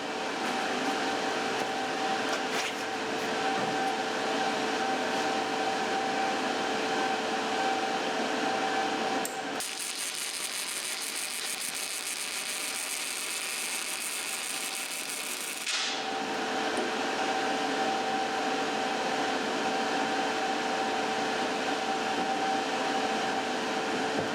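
A Harbor Freight Titanium 200 welder lays a bead, producing a steady, loud crackling hiss that runs for about six seconds in the middle, framed by a constant humming shop background before and after.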